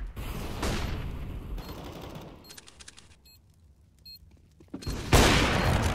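Flashbang grenade in a shooter video game, gunfire and booming bursts up front, a quieter stretch with mechanical clicks, then a sharp loud blast near the end.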